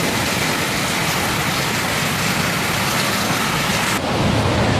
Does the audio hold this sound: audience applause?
no